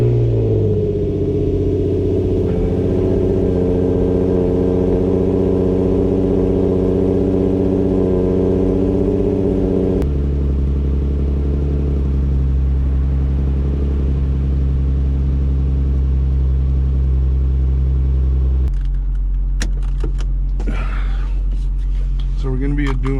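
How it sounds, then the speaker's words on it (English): A Nissan 350Z NISMO engine cold starts and settles into a loud, steady idle, with the pitch dropping to a deeper rumble partway through and someone talking over it. "let's start it off with a nice little cold start."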